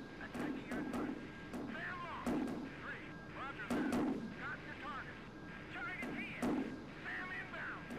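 Flak bursts and artillery-like booms keep going around a jet flying a low, fast attack run on fuel tanks in the Vietnam-era flight simulator Strike Fighters 2. The thumps are repeated and irregular, with someone talking over them.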